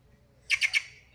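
A plush-crested jay gives three quick harsh squawking calls in a row, fairly close, over a quiet low background.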